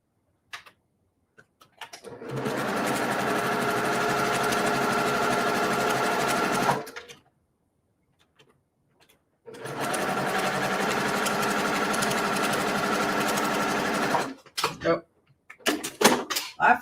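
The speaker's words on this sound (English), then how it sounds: "I'm going to do the other side." A sewing machine stitches quilt quarter-square triangle pieces in two long, steady runs of rapid mechanical whirring, loud and close, separated by a brief pause with a few clicks and handling noises.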